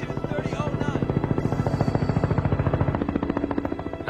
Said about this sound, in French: C'est celui d'un hélicoptère à qui il communique sa position par radio.